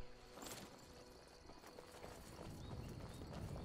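Horse hooves clip-clopping in Skyrim Special Edition, steady hoofbeats from a nearby mount with a brief whinny early on, faint game ambience underneath.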